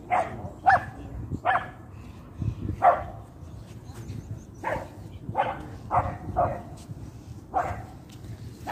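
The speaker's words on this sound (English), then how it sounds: "Some dogs bark in the background." Dogs bark repeatedly in the background on Whitley Bay Beach, short sharp barks and yips coming in irregular bursts from a moderate distance over a low murmur.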